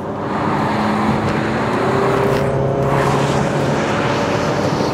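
A Chevrolet Captiva 2.0 engine pulls steadily under load in manual mode, its drone rising in pitch as it accelerates, with constant road and wind noise throughout.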